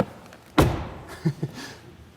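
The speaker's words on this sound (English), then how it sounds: "Yes, and now, door closing sound." A BMW X7 facelift door shuts with a single solid, muffled thud nearby, followed by two softer knocks and faint handling sounds at a car launch event.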